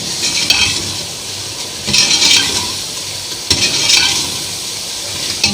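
Spices frying in a pan for a potato dish, a steady hissing sizzle swelling in three louder bursts as the pan is stirred, close and alone.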